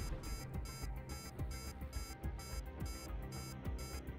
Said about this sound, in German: das Gepiepe geht mir auf den Sender von den Torpedos, ne?